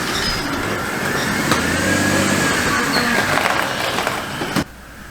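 A Jeep Wrangler JK rolls steadily into a garage on a cold, blustery day, its engine a continuous close rumble with some road and wind noise, cutting off sharply near the end.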